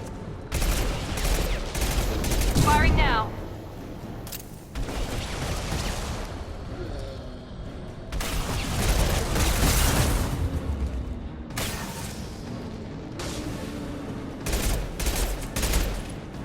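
Gunfire in Mass Effect 2 comes in sustained bursts of rapid automatic shots separated by short pauses, loud and close, with explosive booms and faint talk mixed in.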